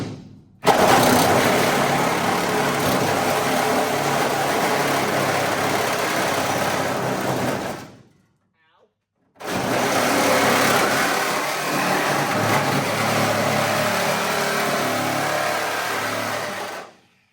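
An oscillating tool cuts across the steel trunk pan of a Firebird body, a loud sustained buzzing drone in two long runs of about seven seconds each, separated by a brief stop.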